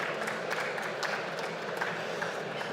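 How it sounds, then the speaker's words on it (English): Steady applause from a conference audience, a dense wash of many hands clapping at moderate volume throughout. "let's give him another round of applause."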